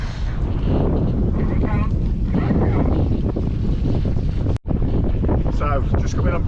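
Wind roars steadily over the microphone aboard a sailboat making about ten knots on an estuary under clear skies, with faint water noise beneath and voices talking over it.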